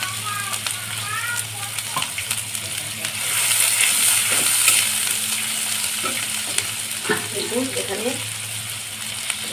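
Oil heating and sizzling steadily in a pan as turmeric and spice paste begin to fry for a mourala fish curry, a continuous close hiss with light stirring scrapes.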